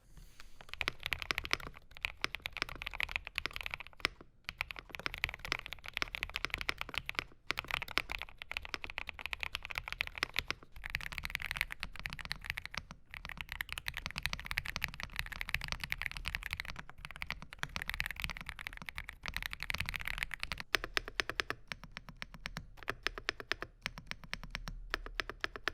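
Typing on a Kreo Swarm 65 wireless mechanical keyboard produces continuous quick, soft clacks at close range, with short pauses between bursts of keystrokes.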